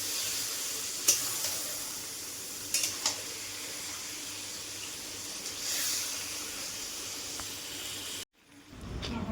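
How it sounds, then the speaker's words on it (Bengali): Goat meat sizzles and hisses steadily in mustard oil in a pan, a continuous close frying noise with a few soft stirring bumps, cutting off abruptly near the end. "এবার এর মধ্যে পাঁঠার মাংসগুলোকে দিয়ে দেব, দিয়ে এবার মাংসটাকে ভালো করে কষবো।"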